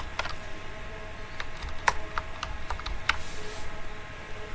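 Keystrokes on a computer keyboard typing out a short word, a quick run of crisp, close clicks with uneven spacing and one or two louder taps, over a steady low hum.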